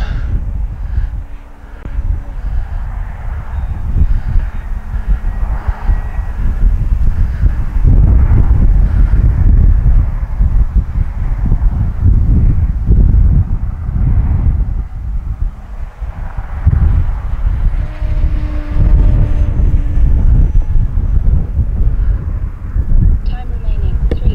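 Strong wind buffets the microphone outdoors during an RC model airplane flight, an E-flite Carbon-Z T-28, with a continuous low rumble throughout, and a voice speaks faintly beneath the noise.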